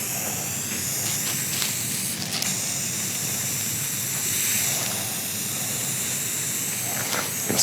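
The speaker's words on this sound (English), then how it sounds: "I'm spraying into alcohol, which is why it's giving it this feathered effect right there" An aerosol can sprays into alcohol on an epoxy surface, a continuous, even hiss without a break for several seconds, close and fairly loud.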